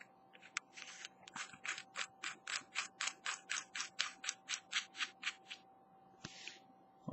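Cap being screwed onto a stainless steel tube with a freshly charged VTC3 battery inside, a steady run of about fifteen quick ratcheting clicks, close and fairly quiet, followed by a brief rub at the end.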